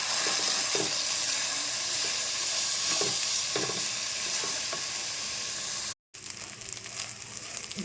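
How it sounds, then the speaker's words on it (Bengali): Washed basmati rice being stirred and fried in a pan for chicken biryani, a steady close sizzle with repeated scraping stirs, briefly cut out before the frying resumes. "ভিউয়ার্স দেখেন কত সুন্দরভাবে আমি চালটাকে ভেজে নিয়েছি"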